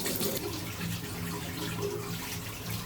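Cold water runs from a tap as a face is splashed and washed, a steady close splashing rush with uneven surges and no voices.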